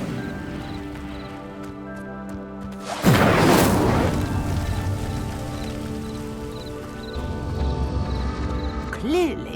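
An Incendio fire spell cast in Hogwarts Legacy erupts as a sudden loud whoosh and crackling burst that flares for about a second and fades into a low roar, over a steady ambient game soundscape with a rising magical tone near the end.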